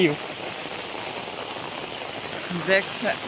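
Rain falls steadily on a village jungle in Cooch Behar, a soft, even wash of drops that continues throughout, with a few faint calls near the end.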